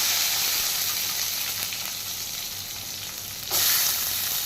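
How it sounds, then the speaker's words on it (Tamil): Cumin and fenugreek seeds frying in hot oil in a home kitchen, a continuous close hiss and crackle of sizzling with a brief louder burst near the end, no voices. "சீரகம் வெந்தயம் சேர்த்துக்கலாம் அது பொறிஞ்ச உடனே வெங்காயம் சேர்த்துக்கலாம்"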